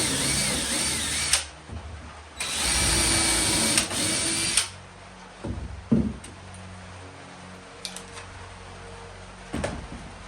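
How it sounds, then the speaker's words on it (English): Power drill pre-drilling holes in a 2x4 for a workbench frame, two loud whirring bursts of a few seconds each, then quieter clicks, knocks and handling sounds of the wood nearby. "I'm just going to go ahead and pre-drill these holes the same way as I was doing before."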